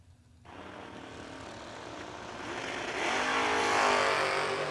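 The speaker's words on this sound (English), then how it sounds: "Mustang leaves, here comes the Camaro." Drag racing launch of a Ford Mustang and a Chevrolet Camaro at an ACE event, a steady loud engine roar that swells and rises in pitch as the cars pull away.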